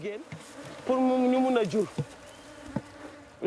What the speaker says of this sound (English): bees forage male and female flowers and pollinate them